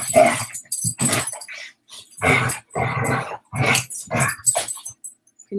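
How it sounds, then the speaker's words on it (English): Several dogs bark and growl in short, loud bursts with gaps between, fairly close by, no talking. "Can you hear the dogs?"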